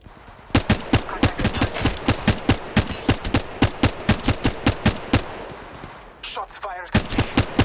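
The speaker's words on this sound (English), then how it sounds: "Shots fired at me." Rapid bursts of gunfire from an Apex Legends match on Kings Canyon, loud sharp shots firing in fast irregular volleys across the whole span, with a brief pause and a few quieter mechanical sounds before shooting resumes.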